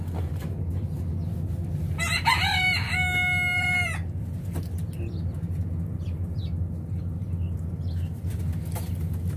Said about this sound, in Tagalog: Ito yung mga inahin nila.